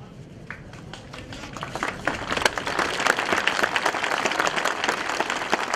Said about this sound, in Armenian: Այս ծափերը վճռականության նշան են, ոգևորության նշան են